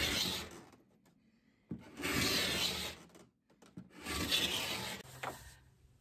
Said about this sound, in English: once I cut into the protective coating on the table, scraping became much easier